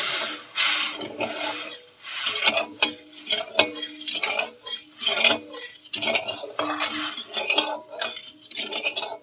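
A spoon scrapes and clinks against a pan while sugar melts with a little water for kathi goja, a steady run of close, rhythmic metallic stirring strokes with no talking.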